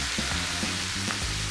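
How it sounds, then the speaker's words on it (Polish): Loud, steady sizzling of minced meat frying in a pan, with occasional soft stirring scrapes. "I smażę, żeby totalnie zamykać mięso."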